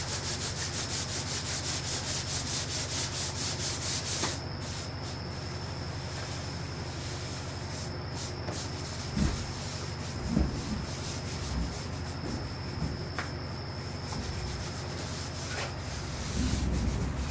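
Parchment is sanded by hand in a steady broadband rubbing hiss that runs continuously and close, with a few soft knocks and taps partway through and no talking.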